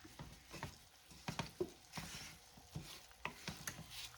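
Garlic butter shrimp with lemon juice cooking in a pan, soft crackling and sputtering pops with occasional stirring clinks, fairly quiet and close with no voices.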